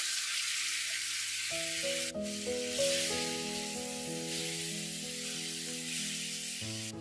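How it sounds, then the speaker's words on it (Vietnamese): Tofu stir-fried in a tablespoon of cooking oil with fragrant shallots gives a steady, close sizzle that runs unbroken from start to finish under soft background music. "thì mình cho đậu hũ và mình xào nè"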